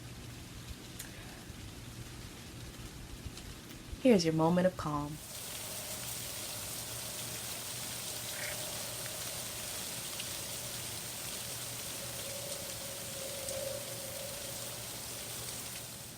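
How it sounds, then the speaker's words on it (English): Steady soft rain patters outside throughout, a continuous hiss behind a brief spoken line near the start; a faint steady hum also runs underneath. "the rain is picking up again"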